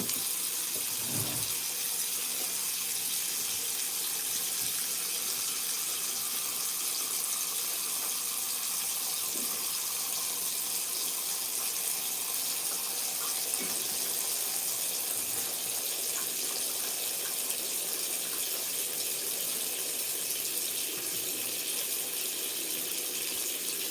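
Water runs steadily from a bathroom tap during tooth brushing, a constant hiss that stays even throughout, with a few faint knocks and no talking.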